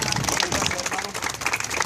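Church congregation applauding a guest during a sermon tour in Quetzaltenango, Guatemala; dense, steady clapping fills the short stretch with some voices mixed in.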